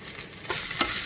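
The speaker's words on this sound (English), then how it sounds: "we are gonna just fry it, like saute it basically" Ginger and green chili frying in a pan, a soft hiss that jumps into a louder, brighter sizzle halfway through, with a short stirring scrape near the end.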